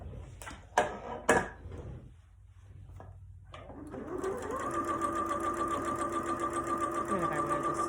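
Elna Experience 560 sewing machine stitching at a steady moderate pace on a bouncing table, a continuous even whir starting after a few sharp clunks and brief pauses, near and alone.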